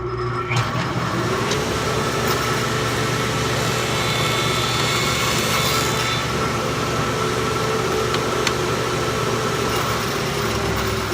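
A power saw runs steadily while cutting a rabbet or dado in a wooden workpiece, its motor whine rising about a second in and holding loud and continuous to the end, with no talk.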